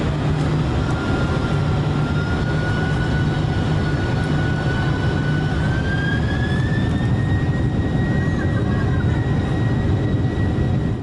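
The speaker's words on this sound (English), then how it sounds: "here's footage, which is just an excuse for me to include the beautiful spool-up music on board a Qantas 747-400ER" Engines of a Qantas Boeing 747-400ER spooling up, heard from inside the cabin: a loud, constant jet roar with a whining tone rising in pitch midway and holding, no voices.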